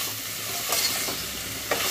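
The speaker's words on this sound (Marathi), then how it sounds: "सर्व परतून घ्यायचं आहे छान" A spice mixture with red chili powder and Kashmiri chili sizzles steadily in a pan for a shev bhaji curry, with soft stirring scrapes over an even, close frying hiss and no talking.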